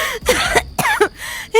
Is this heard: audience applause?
no